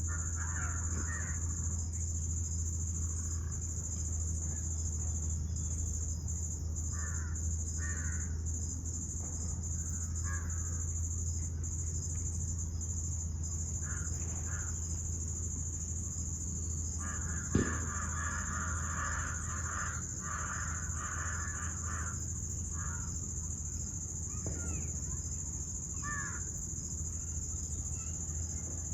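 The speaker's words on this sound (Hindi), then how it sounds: "पक्षी की जो पुकार है, जो अभी मुझे सुनाई दे रही है" Crows caw in short, scattered bursts across a forest soundscape, some calls near and others farther off, over a steady high insect drone and low background hum.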